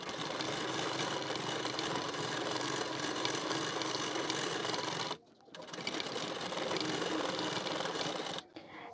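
A sewing machine runs steadily and close while stitching a blouse waistband band, a continuous whirring drone that stops briefly twice and then resumes, with no voices.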